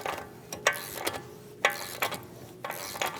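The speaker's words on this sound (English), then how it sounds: "Snug the axle nut down." A hand ratchet snugs the front axle nut on a Chevrolet Malibu with a 1.5L engine, giving about seven sharp, close ratcheting bursts in an uneven rhythm against a quiet background.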